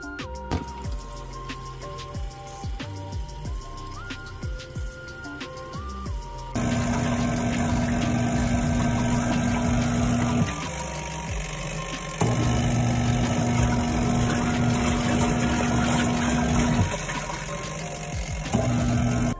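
Portable washing machine in an RV running its rinse cycle after being refilled by hose, with a steady motor hum and sloshing water, shifting in level as the agitation stops and restarts.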